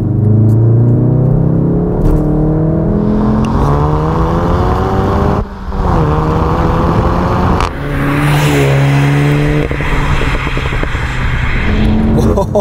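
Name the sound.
four-cylinder car exhaust revving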